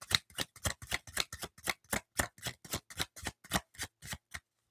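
A tarot card deck is shuffled by hand in a quick, even rhythm of about twenty crisp papery bursts, close and fairly quiet, stopping abruptly at the end.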